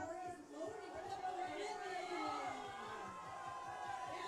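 Crowd noise cheers and roars through a powerlifting meet at the USA Powerlifting Summer Open as an athlete takes on a 240 kg deadlift, a steady rumble of voices heard beneath a commentator talking.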